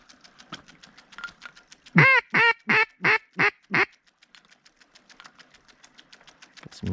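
Ring-necked ducks heard on water alongside coots during a kayak duck hunt, a close run of five loud rhythmic quacks in quick succession amid fainter repeated clicking calls, no talking.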